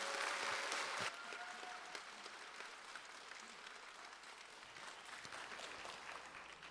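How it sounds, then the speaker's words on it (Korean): A church congregation applauds to welcome a guest speaker at a prayer meeting. The clapping is dense and even, stronger for the first second and then continuing a little softer. There is no talking over it. "우리 박수로 환영하겠습니다."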